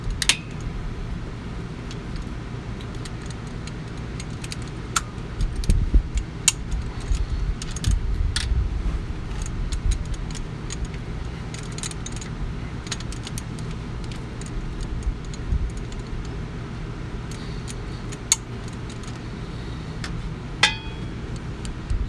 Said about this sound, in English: we're going to torque these first at 20 foot-pounds, and then we'll torque them to 25